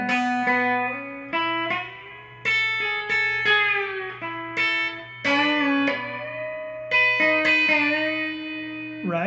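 Electric guitar plays the opening melody of a song, a steady run of clean sustained notes with slides and slight bends, moderately loud and alone over a faint low hum.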